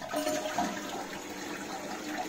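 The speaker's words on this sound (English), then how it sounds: "Give it a little flush after dry things down." An apartment toilet under repair flushes with a rushing swirl of water that stays steady for a couple of seconds, close and moderately loud, with no talking.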